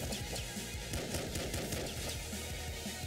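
Pistol gunfire in the top-down shooter Nuclear Throne during a fight against horror enemies, a steady stream of fairly quiet, rapid shots layered over dense game noise.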